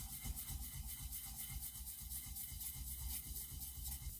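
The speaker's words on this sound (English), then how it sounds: "You should always use a very, very fine grit sandpaper for that." Fine-grit sandpaper rubs across the filed gears of a Lima model locomotive in quick repeated strokes, a soft, faint, steady scratching close by with no voices.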